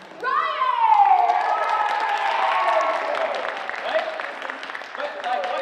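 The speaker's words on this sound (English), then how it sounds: "let's have a big round of applause for our winner" An audience at a show applauds a winner named Ryan: steady clapping with an early rising-and-falling cheer, continuing at an even level throughout.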